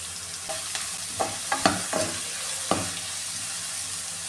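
Onions frying with salt and curry leaves for a coconut chicken curry, a steady sizzle under several light spoon clinks and stirring knocks against the pan, close and with no voices.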